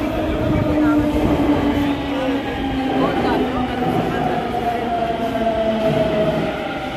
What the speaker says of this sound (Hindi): यहाँ अभी आएगी अपनी मेट्रो।